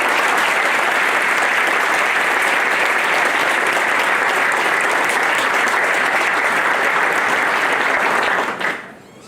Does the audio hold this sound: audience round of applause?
yes